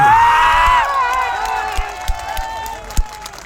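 Applause and crowd noise rise after a one crore rupee donation is announced at a bhoomi pujan for a Raval community education complex, with an announcer's voice at first, then scattered clapping and a few thumps.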